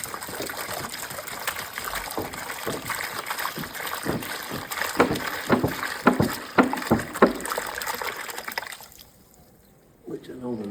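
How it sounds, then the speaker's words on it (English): Distilled water gushes and sloshes through an on-demand water heater during flushing, an irregular splashing trickle with louder surges midway that fades to near quiet near the end, while a person talks nearby. "I'm gonna go ahead and run both gallons of distilled water through it"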